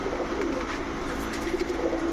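A black Rajshahi Giribaz pigeon, a tumbler hen, coos softly in a short low burst against steady background noise.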